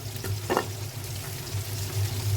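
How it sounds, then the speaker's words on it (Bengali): Chopped garlic frying in hot oil, a continuous close sizzle with a couple of brief stirring scrapes, no talk over it. "ভাজার জন্য হচ্ছে রসুন কুচি দিয়ে দিলাম।"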